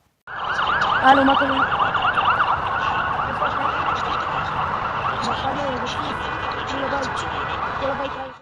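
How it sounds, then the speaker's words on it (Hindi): Ambulance sirens wail through Tel Aviv during an Iranian attack on Israel, loud and close, several overlapping warbling tones rising and falling steadily throughout. "यहां पर देखिए किस तरह से एम्बुलेंसेस जा रही हैं"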